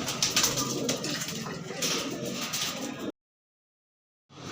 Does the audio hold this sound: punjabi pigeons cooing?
yes